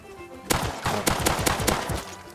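Gunfire in the survival video game Rust: a quick burst of several loud, sharp shots in rapid succession, close and with no talking.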